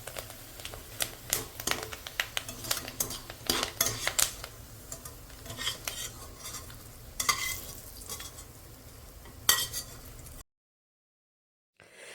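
Homemade potato chips fry in a small amount of oil in a pan, with a continuous sizzle and repeated clinks and scrapes of a metal utensil stirring, close by, before cutting to silence.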